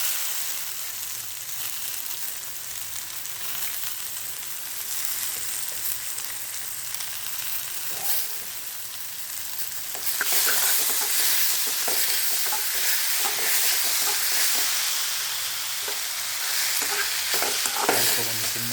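Dried fish frying with tomatoes in oil in a pan, a continuous crackling sizzle with stirring scrapes, growing louder and busier partway through as the ingredients are added.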